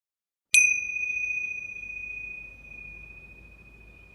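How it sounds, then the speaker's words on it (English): A gong is struck once to close a puja, a sharp clear strike followed by a long, steady ringing tone that slowly fades over several seconds with a faint low rumble underneath. "before I close the puja officially with the gong"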